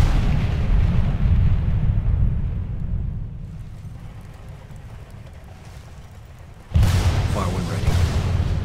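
Heavy artillery fire in the video game Battlefield Bad Company 2, a loud sustained rumbling roar that eases off partway through, then a fresh booming blast slams in near the end.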